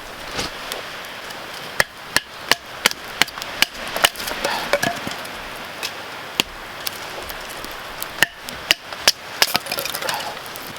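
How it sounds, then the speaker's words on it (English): Sharp, isolated impacts ring out at irregular intervals as firewood is split into smaller pieces at an outdoor bushcraft camp, each hit standing out clearly over a steady hiss of background noise. "I'm gonna have to process the wood down a little smaller"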